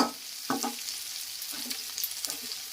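Steady sizzling of food frying in a pan, with a few scraping stirs near the start, close and moderately loud, no voices.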